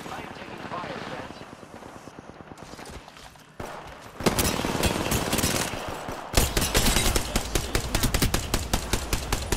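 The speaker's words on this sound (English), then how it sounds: "Opening fire on the enemy." Rapid automatic gunfire in an Apex Legends match, dense bursts of close, loud shots that intensify and continue steadily, with talk over the top.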